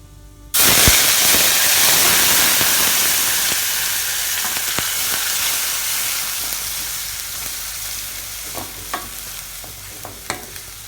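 Ground coconut paste for Kerala kalan hits a hot pan and sizzles loudly, then a spoon stirs and scrapes through it over low flame, the frying hiss gradually fading with sharp utensil clicks near the end.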